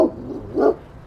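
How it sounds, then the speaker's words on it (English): A dog gives two short, fairly loud barks close by, the second one stronger, with nothing else audible around them. "That's a stupid dog."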